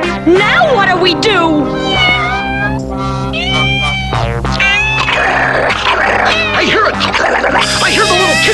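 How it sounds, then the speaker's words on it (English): Cartoon cat meowing from a 1981 Saturday morning animated show, loud drawn-out meows rising and falling over a steady music bed, with voices talking over it. "I hear the little kitty cat."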